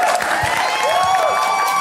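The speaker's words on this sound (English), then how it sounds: "let me give applause for Miss Eunice" Audience at a blockchain talk applauding a guest speaker, a short spell of clapping and crowd noise with an electronic tone sliding through it.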